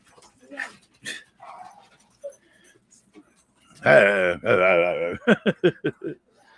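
A dog barks in a run of loud, close yelps and whines, with a quick string of sharp barks at the end and faint speech earlier.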